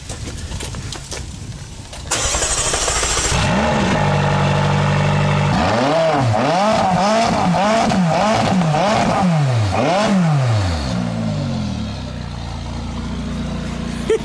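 A McLaren 765LT supercar engine fires up at a dealership, catching with a sharp burst, then settling into a loud idle broken by several hard throttle blips that rise and fall in quick succession before easing back down.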